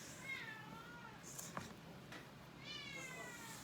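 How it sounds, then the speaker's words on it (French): A bored pet left upstairs while its owner works in the basement during vanilla sponge cake baking meows twice, a drawn-out wavering cry at the start and another near the end, faint and somewhat distant over a low room murmur. "Mon chien il miaule, il s'ennuie quand je suis au sous-sol."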